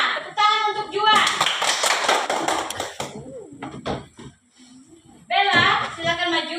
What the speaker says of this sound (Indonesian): Tepuk tangan untuk Juan.